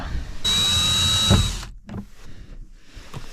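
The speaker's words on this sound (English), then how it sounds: "I had to use the drill to get them into the slot here." A power drill whirs loudly for about a second, driving bolts into a shelf hinge inside a camper van, then stops, and faint clunks and handling knocks follow.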